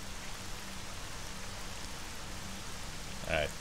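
Steady rain pours in S.T.A.L.K.E.R. Shadow of Chernobyl, a dense even hiss that stays constant, and a brief sharper sound cuts in near the end.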